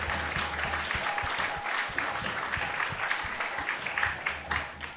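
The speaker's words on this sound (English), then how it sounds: "So let's give a big round of applause to Gopal." Audience applause at a Vaishnava devotional gathering, a steady broad wash of many hands clapping that carries on for several seconds at moderate loudness, with faint voices mixed underneath.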